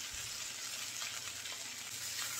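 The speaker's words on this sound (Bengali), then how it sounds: "আমি আরও একটু লালচে করে ভেজে নেব।" Shrimp, jackfruit seeds, pointed gourd and long beans fry in a pan until reddish for a mashed bhorta, a steady close hiss of oil running throughout with nothing breaking through it.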